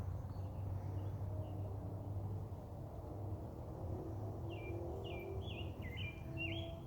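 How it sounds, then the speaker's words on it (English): Birds singing outdoors among grassy plants, several faint chirps and short whistled phrases over a constant low rumble of passing road traffic. "I can hear birds singing"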